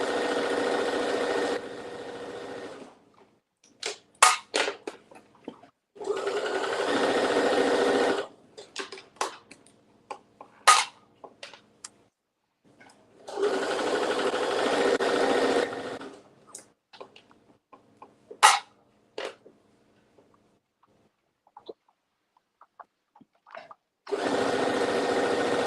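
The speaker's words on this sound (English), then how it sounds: "I'm sewing shorts." Sewing machine stitching shorts in bursts, each run lasting about two to three seconds with gaps between, loud and close, with small clicks and handling noises in the pauses.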